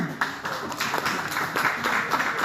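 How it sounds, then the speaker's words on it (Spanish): Applause for young children at the close of a youth basketball club holiday program in Bogotá, Colombia: a steady patter of many hands clapping, moderately near, sustained without a break and with no talk over it. "creo que se merecen un aplauso"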